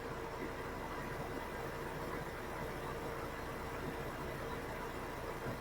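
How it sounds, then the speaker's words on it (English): Car engine and exhaust idling, a soft steady low hum with a faint rough texture running evenly throughout. "It's only the engine sound or it is exhaust sound."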